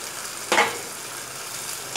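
Shrimp and vegetable sauce is stirred in a pan: one short, sharp scrape over a faint simmering hiss, then another weaker stir near the end.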